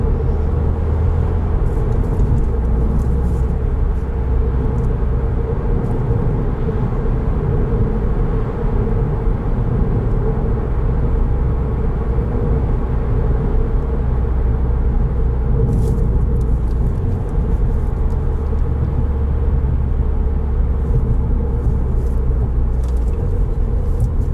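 A 2020 Subaru WRX Limited with a manual gearbox, heard from inside while driving: a steady, loud engine drone and road rumble that runs continuously, with no talking.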